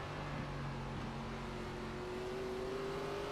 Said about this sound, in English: You can hear as he got the gas, the car wanted to come back around.